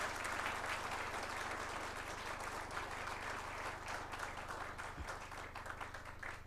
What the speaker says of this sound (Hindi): इन 2 हीरोज के लिए मैं चाहता हूं कि आप इतनी जोर से ताली बजाएं